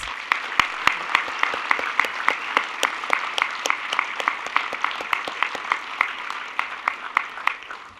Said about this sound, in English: Let's give them one final thank you and round of applause.